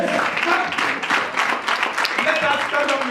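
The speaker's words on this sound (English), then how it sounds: "Let us stand up and clap for her." A church congregation at a Sunday service claps together, a continuous dense patter of hands with voices mixed in, fairly close and steady throughout.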